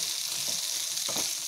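Chickpeas and potatoes frying in a pan over medium-high heat, a steady soft sizzle with two brief bursts of stirring scrapes, no voices.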